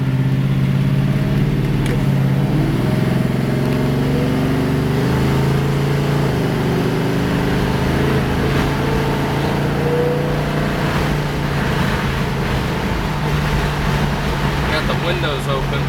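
A 1962 Chevrolet Nova II with a 383 engine cruising on the road, a steady loud engine drone with windows open and wind noise, shifting slightly in pitch, while someone talks over it.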